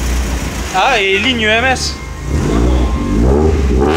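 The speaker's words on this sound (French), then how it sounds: "Elle démarre, regarde, au quart de tour." A Volkswagen Golf 2 16-valve engine starts instantly and runs with a low, steady rumble and revs slightly, while someone talks over it close by.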